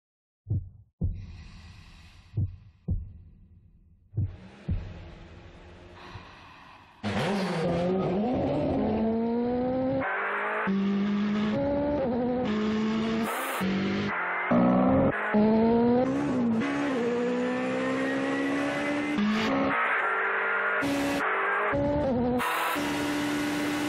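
A new Mitsubishi Triton sport truck, a 2015 model, drives past with a steady, loud engine and road roar, preceded by a few sharp separate knocks and bumps before the continuous drive noise takes over.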